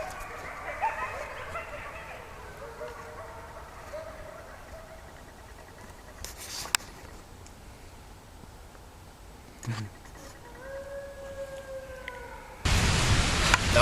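Wild wolves howl far off in Algonquin Park at night, faint drawn-out tones rising and falling, with a short burst of howls early and another pair later, over quiet background hiss and a loud noise at the end.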